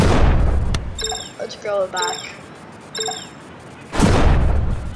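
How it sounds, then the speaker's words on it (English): Video game explosions burst on grass, one heavy blast at the start and another near the end, with a player talking and game effects in between. "We have to dodge these explosions."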